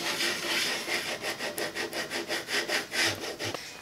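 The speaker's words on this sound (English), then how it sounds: "Then I'm going to go in with my squidger and I'm just going to very gently" A squidger rubs back and forth over holographic vinyl loaded on a Cricut machine, making a close, rhythmic scraping with about a dozen even strokes in a row.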